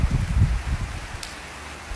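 Rain falling outdoors in cool weather, a steady low rumbling patter with rustling texture, fairly close and continuous, no voices over it.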